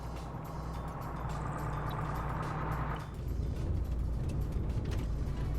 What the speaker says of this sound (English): As Golf literally drives right up to him.